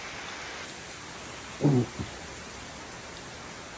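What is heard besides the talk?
heavy rain falling on a pool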